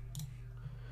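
A single soft mouse click while working in Final Cut Pro X, faint and brief over a steady low electrical hum.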